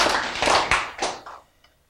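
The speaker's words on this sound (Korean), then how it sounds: "박수 치러." A church congregation claps during a sermon, starting as a brisk cluster of claps that thins into a few separate ones and fades to quiet within two seconds.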